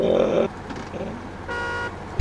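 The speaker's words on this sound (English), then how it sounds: "I accidentally honked my horn" Truck horn honking in the off-road driving game SnowRunner, a steady tonal blare lasting about a second, heard alongside engine rumble and game sounds.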